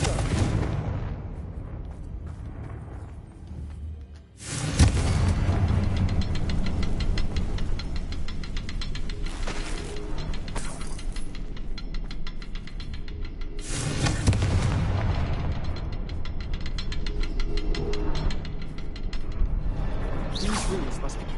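A Confringo explosion spell in the Hogwarts Legacy video game bursts loudly, followed by sustained rumbling blasts and booms with mechanical rattling; a voice briefly speaks over it.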